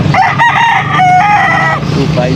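Young roosters, or stags, crow at a Pampanga poultry market, several overlapping harmonic crows close by over a constant din of market noise.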